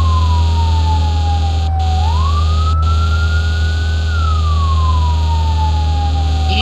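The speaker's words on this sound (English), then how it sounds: "Easy on the horn there" A fire engine siren wails in the video game Firefighting Simulator, its pitch dipping and rising in a long sweep over a steady loud engine drone, with a couple of sharp clicks and no talking.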